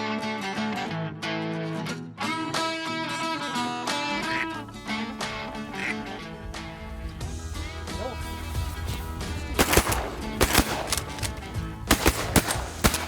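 Shotguns fire during a late-season duck hunt in Wisconsin, with several sharp, loud blasts cracking out toward the end, preceded by music and voices.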